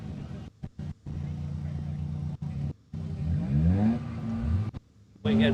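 A drag car revs and accelerates on a no-prep airstrip strip at a street drag meet, its engine droning steadily then sweeping up through rising gear pulls, loud and close, with brief gaps and a voice talking over it.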